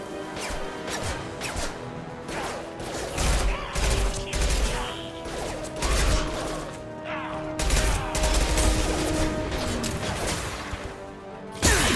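Gunfire crackles through a Mass Effect 2 firefight, repeated loud bursts and impacts hitting in uneven clusters over a dense battle background, with no talking.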